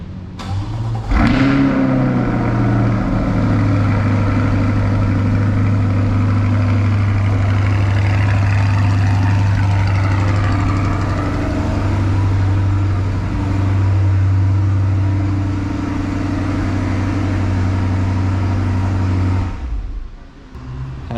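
A Chevrolet C8 Corvette convertible's engine fires up by remote start with a sharp bark, then settles into a steady, deep, rumbling idle heard close by for about twenty seconds before shutting off.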